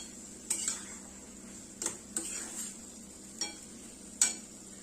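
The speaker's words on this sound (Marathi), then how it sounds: "छान असं मिक्स करून घ्यायचंय" Matki masala, a spiced moth bean dish, being stirred in a pan: a handful of soft, separate scrapes and clinks of a spoon over a quiet low sizzle, spaced irregularly.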